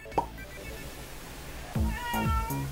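A few short meows come in separate bursts, close and fairly clear, the first one brief and the later ones longer and rising then falling. A person talks softly between them.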